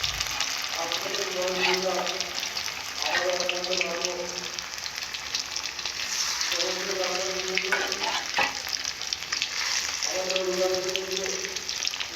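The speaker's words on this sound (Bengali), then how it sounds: "হালকা আছে ভালো করে ভেজে নেব এইভাবে" Meat masala frying in a pan, a steady close sizzle running throughout with rhythmic bursts of stirring and scraping against the pan, plus a brief water-like splash midway; no speech.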